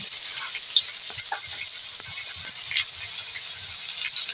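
Potatoes frying in a small amount of mustard oil, giving a steady bright sizzle with faint clicks and light rattles from the pan, no voices.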